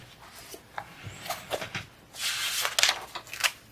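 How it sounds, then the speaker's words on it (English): Paper rustling and crinkling in short bursts, ending in a louder, longer swish like a page being turned, quiet and close. "I hope that page turn isn't super loud"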